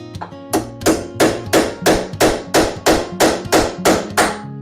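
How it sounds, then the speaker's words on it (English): A hammer strikes a punch through metal on a Triumph TR8 about a dozen times in a steady, even rhythm, each blow a loud, ringing clank close by. "Use a small punch and a hammer. Should be able to knock this through."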